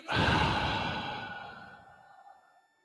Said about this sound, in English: Hold that breath. And breathe it out hard.